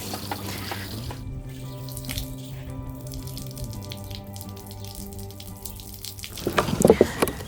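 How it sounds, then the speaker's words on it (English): Water from a garden hose wand runs steadily with a faint hiss and drip, then a louder burst of splashing near the end. "Then you just lock it in place and turn your water back on."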